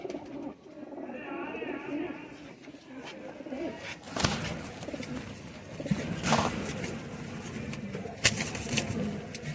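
Nele Patti pigeons, a prized female among the flock, coo in low repeated throaty bursts close by, with scattered wing flutters and chirps over a steady background murmur.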